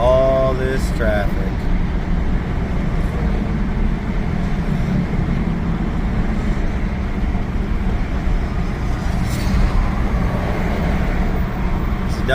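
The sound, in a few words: road traffic noise on a Phoenix highway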